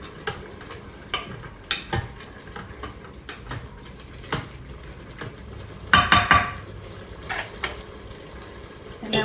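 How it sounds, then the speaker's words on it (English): Spoon stirring a pot of beef stroganoff, scattered clinks and taps against the pot over a soft cooking sizzle, with one brief louder scrape midway. "Give this a stir."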